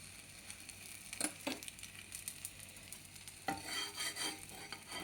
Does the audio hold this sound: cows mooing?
no